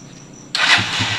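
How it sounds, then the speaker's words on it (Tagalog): A motor cranks and catches abruptly, jumping from near quiet into a loud, rough running engine that keeps going. "Start natin yung motor."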